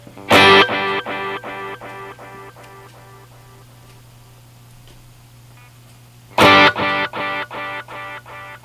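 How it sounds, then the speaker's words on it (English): Boss DD-500 pedal running its RE201 and Echoplex tape delay models on two separate struck guitar chords, each followed by a train of evenly spaced repeats that fade out over a low steady hum. "this option lets you select between two different types of tape delay that the pedal is modeling after"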